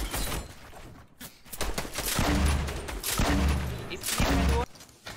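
Gunfire in the Fortnite video game: several loud bursts of in-game shots and fusillade-like cracks spread across the clip, with game noise between them and no clear talk.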